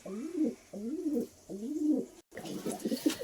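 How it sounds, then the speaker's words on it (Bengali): A pair of Giribaz pigeons coo in three rhythmic, close, fairly quiet phrases, followed by softer, busier cooing and rustling. "এটা একটা গ্রিবাজ পায়রার পেয়ার দেখাচ্ছি।"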